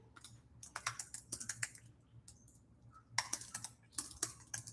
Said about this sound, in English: Just typing here.